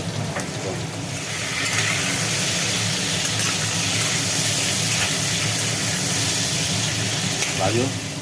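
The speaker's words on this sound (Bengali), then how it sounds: "এবার এটা ভাজা হবে তাই তো" Pumpkin and potato pieces frying in a pan for khichuri, giving a steady, dense sizzle and hiss that runs continuously through the clip, with a voice speaking under it.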